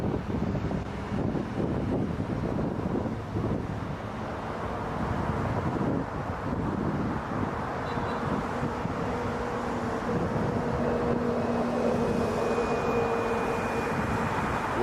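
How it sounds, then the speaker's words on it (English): Wind buffets a microphone outdoors at Toronto Pearson airport at night as a continuous loud roaring rumble, with a faint distant engine hum underneath. "It's the wind I'm hearing."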